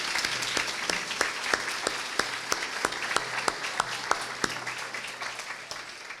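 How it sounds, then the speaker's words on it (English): Steady audience applause at a breast cancer summit, dense and sustained for about six seconds, with sharper individual claps standing out above the continuous patter. "Please let's give her a round of applause."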